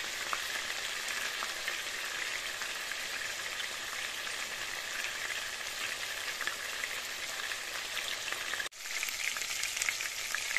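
Large Peshawari chapli kebabs frying in a pan of oil, a dense, even hiss of crackling fat close up and continuous, briefly cut off near the end before resuming, with no voices.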